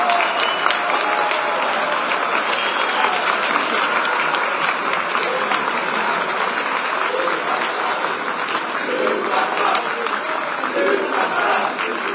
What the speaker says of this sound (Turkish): lütfen burada tezahürat yapmayalım